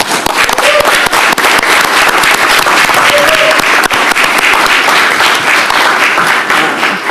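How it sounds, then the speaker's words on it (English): People in a county commissioners meeting room give a loud round of applause to honor an award recipient, dense close clapping sustained evenly throughout with occasional sharper claps. "So I want you to join me in giving her a round of applause"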